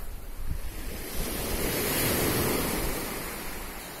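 Sea surf washes against the shore beneath an overhanging cliff, a continuous roaring rush that swells and eases, with wind buffeting the microphone and no voices.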